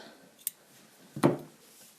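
Scissors snip through a crochet cotton yarn loop, giving one faint click and then a single sharper, quiet cut a moment later, close by with nothing else around it.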